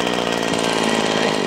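A Wild Badger power trimmer's small two-stroke engine idles steadily up close, a continuous buzzing drone with a fine rapid pulse and no speech over it.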